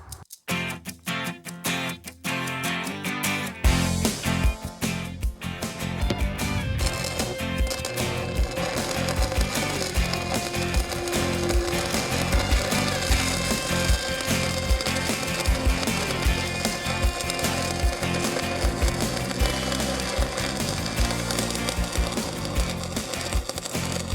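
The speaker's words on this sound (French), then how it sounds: "OK, Michel, on vient de faire une soudure" Arc welding on steel, a dense, steady crackling sizzle that starts after a few seconds of sharp clicks and continues loudly and evenly throughout.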